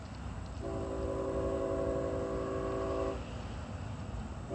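A train horn sounds at a railroad crossing at the bottom of a hill, one long steady blast heard from a distance over quiet outdoor background noise, then it stops.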